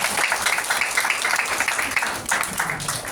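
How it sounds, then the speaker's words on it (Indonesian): Church congregation claps during an evangelist's sermon, a moderate uneven patter of hands with some rhythmic bursts, somewhat distant and roomy. "tepuk tangan untuk Tuhan Yesus"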